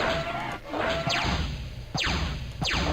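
Spider unit firing in a strategy video game, a few sharp crashing shots with sweeping whooshes, repeated at irregular intervals over a dense, loud game soundscape.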